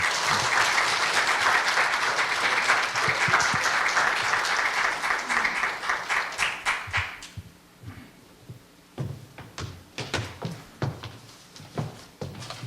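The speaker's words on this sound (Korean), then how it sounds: "박수로 환영해 주시기 바랍니다." An audience at a Korea University lecture forum applauds to welcome a lecturer, dense clapping for about seven seconds that thins into scattered claps and fades.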